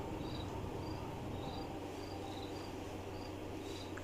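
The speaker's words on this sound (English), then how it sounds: "Hear crickets." Crickets chirping at night in woods, a steady dense insect trill with faint repeating high chirps over a constant low background hum, no voices.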